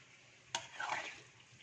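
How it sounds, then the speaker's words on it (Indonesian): Beef rendang being scraped and stirred at the edges of a pan, a single sharp knock of the utensil followed by a brief soft scraping burst, quiet and close with no talk. "dikikis nih yang di pinggir-pinggir supaya dia nggak nempel"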